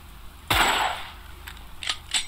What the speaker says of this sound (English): I can kind of shoot it through the gaps though.